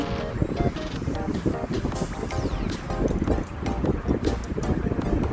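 A steady electric fan on its highest setting, speed three, roars close by, its airflow buffeting the microphone in a constant rough whoosh with no letup.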